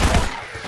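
A non-standard SMG fires in Garry's Mod, a quick loud burst of gunfire in the first moments that tails off into a dull reverberant hum.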